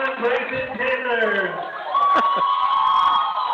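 A loud indoor crowd at a boys' high school basketball game roars and cheers continuously, with shouts and a sharp whistle-like tone cutting through the din.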